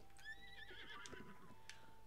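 A horse in the video game Breath of the Wild gives a faint, short whinny, a high wavering neigh with light hoof clops underneath, heard alone.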